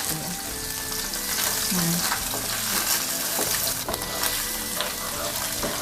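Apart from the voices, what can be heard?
egg tofu frying in oil in a wok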